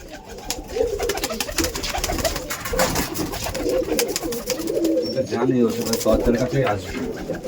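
Tippler pigeons released in an open place coo in soft, overlapping, throaty calls that continue steadily, with people talking nearby.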